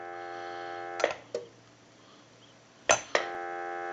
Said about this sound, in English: We'll give you a dial tone.